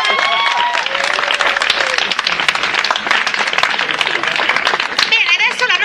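An audience at the final show of a Pro Loco theatre course in Ottone bursts into dense, sustained applause, loud and close, with a few voices mixed in.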